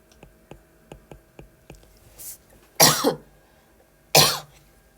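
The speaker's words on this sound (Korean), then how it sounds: "기침을 안 하다가 꼭 녹음만 하면 기침을 한다니까" Soft rhythmic ticking runs underneath as a person coughs twice, the coughs harsh and close, separated by a brief pause.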